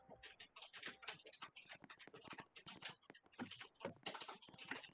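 Dense, rapid typing on a computer keyboard, loud and close, with irregular bursts of clicking keystrokes running continuously throughout.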